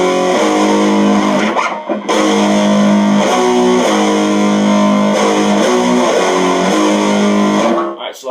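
Distorted electric guitar plays a riff, a loud, sustained chugging pattern with ringing held notes and steady rhythmic shifts, alone and close, cutting off briefly twice.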